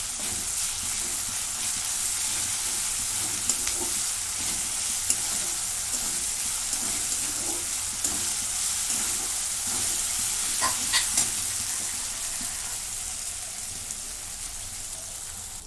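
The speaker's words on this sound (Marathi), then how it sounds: "आता इथून परतून घेते." Coconut and coriander paste sautéing in a pan gives a steady, close sizzle with soft stirring scrapes throughout, no voices.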